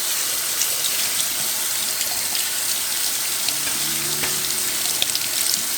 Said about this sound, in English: I'm using a can of Great Northerns, and I want to rinse these off.